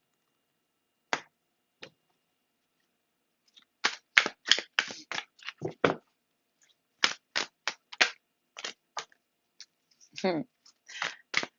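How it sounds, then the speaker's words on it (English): Quick, dry card snaps and riffles come in uneven clusters with short pauses between them, close by. A brief murmur is heard near the start. "This deck is not wanting to shuffle for me"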